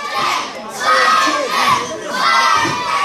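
A wrestling crowd roars in support of Slim Jim Brennan during a champion challenge match, loud shouting and cheering swelling in waves, with youthful voices prominent in the din.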